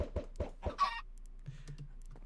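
A Minecraft chicken clucks in a quick series of short, close calls, followed by a few softer low clucks in otherwise quiet surroundings.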